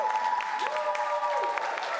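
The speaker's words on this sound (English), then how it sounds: "Give yourselves a round of applause." A studio audience applauds at a live esports broadcast set, a continuous wash of clapping with some cheering, while a faint tonal hum or music sits underneath.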